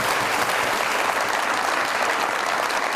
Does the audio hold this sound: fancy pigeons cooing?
no